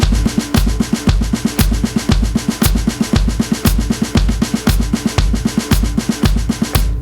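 Steady drum kit groove played alone: punchy bass drum thumps locked to a fast, even run of hi-hat strokes played with alternating right-left sticking, loud and close throughout.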